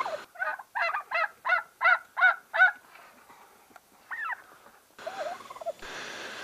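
Domestic turkeys in a small flock, a close rapid run of about seven loud gobbles in quick rhythm, then scattered softer calls and a quieter trilling call over background noise.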